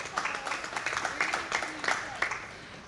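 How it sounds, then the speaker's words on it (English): A small audience at a junior fair sheep show gives a short, moderate round of applause for the winners, scattered claps rising and fading under a light murmur of voices. "Let's give them all a round of applause."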